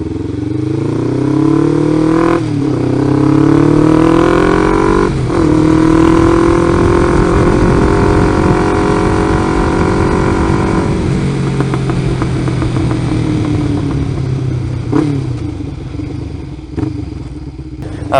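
A Kawasaki Ninja 500R motorcycle rides along toward town, its engine droning steadily close by with rising and falling revs and gear changes, and a few brief clatters near the end.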